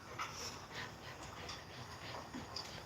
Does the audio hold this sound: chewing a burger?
no